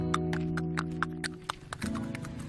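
Horses at a Mount Slamet highland agrotourism site, a steady series of hoof clip-clops near and clear, over a low humming background that changes partway through.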